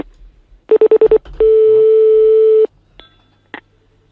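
Telephone keypad tones from a prank phone call: a quick run of five evenly spaced DTMF beeps, then a long steady tone of over a second, followed by a few faint clicks and a brief final beep.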